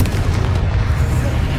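Confringo blasting spell explosions from Hogwarts Legacy, heavy booming bursts with a dense low rumble, loud and continuous across the moment.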